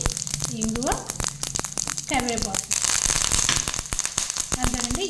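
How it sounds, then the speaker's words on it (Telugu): Mustard and cumin seeds splutter and crackle in hot ghee in a small kadai, a busy sizzle with sharp pops running throughout, mixed with spoken talk. "చిన్న కడాయి పెట్టి వన్ అండ్ హాఫ్ స్పూన్ నెయ్యి వేసానండి దీంట్లో ఆవాలు ఒక్క చిటికీలు జీలకర్ర వేసి చిట్పట అన్నాక"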